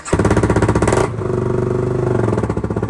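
A motorcycle engine starting after winter storage, idling loud and close with a rapid pulsing beat, a brief rev near the start, then settling into a steady, slightly lower throbbing run.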